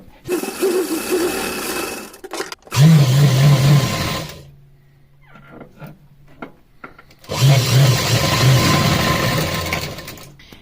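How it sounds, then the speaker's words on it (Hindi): A sewing machine stitches lace tucked onto a small cotton dress for a deity figure, running in three fast, steady bursts with short pauses between them and quiet handling sounds in the gap. "इस लेस को हम टक कर लेंगे यहाँ सिलाई लगा करके"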